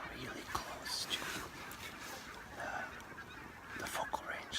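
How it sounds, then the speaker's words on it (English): A flock of barnacle geese calls all around a photography hide in Scotland, their honks scattered and overlapping at low level against a quiet outdoor background. "there's hundreds of barnacle geese all around me."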